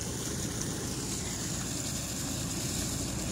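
Perkins 6.354 diesel port engine on a boat, freshly fitted with new injectors, idling with a steady, dense low rumble and constant mechanical drone, even and unbroken throughout.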